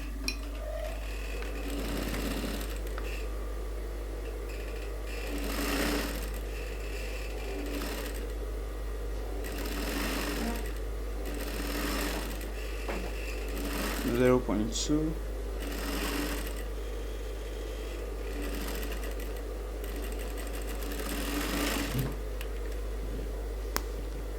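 A sewing machine runs stitching a suit seam in repeated bursts, whirring near and steady with brief pauses between runs, while a person talks over it.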